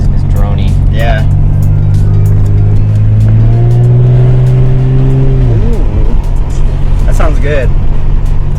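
A Lexus SC300 with a custom-made exhaust drones deep and throaty as it drives, the engine note rising and then dropping; brief voices break in at moments.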